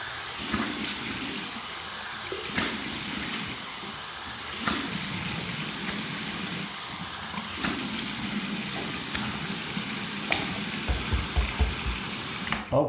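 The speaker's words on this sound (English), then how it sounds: "Here's a cold water rinse." Running cold tap water splashes steadily at close range for a rinse after shaving, with a few brief knocks and clatters near the end.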